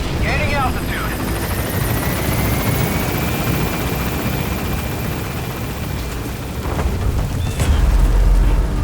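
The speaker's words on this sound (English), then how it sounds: "The extraction chopper." The extraction helicopter in the video game Metal Gear Solid V: The Phantom Pain gives a continuous rotor drone with a thin rising whine as it gains altitude, ending in a heavier low rumble.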